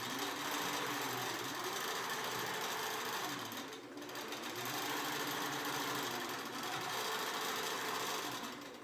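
A sewing machine stitches a quilt block with black thread, a steady fast mechanical whir running continuously with a brief dip midway, close and alone with no talk.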